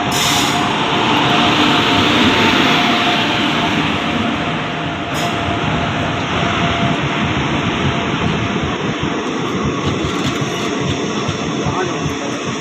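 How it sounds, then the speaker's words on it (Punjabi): A train hauled by an electric locomotive pulls into a village railway station in Punjab, making a loud, close, steady rumble and rattle that lasts throughout with no break. "ਆ ਗਈ ਟ੍ਰੇਨ ਸਾਹਮਣੇ ਆ ਗਈ ਜੀ ਟ੍ਰੇਨ ਜਿਹਦੀ ਆਪਾਂ ਡੀਕ ਕਰਦੇ ਜੀ ਇਲੈਕਟ੍ਰੀਕਲ ਇੰਜਨ ਲੱਗਿਆ ਹੋਇਆ"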